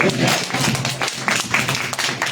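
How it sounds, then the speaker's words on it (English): An audience claps at a Nation of Gods and Earths gathering in Orangeburg, South Carolina. The applause is dense, close and moderately loud, lasting a couple of seconds with voices mixed in. "give yourself a round of applause"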